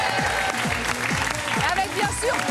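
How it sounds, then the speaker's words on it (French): A television studio audience applauds steadily throughout, a dense wash of claps with a host's voice talking over it. "On peut les applaudir."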